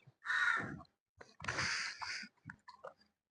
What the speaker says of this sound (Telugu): కాకి వచ్చింది, కొట్టుకుంటా ఉంది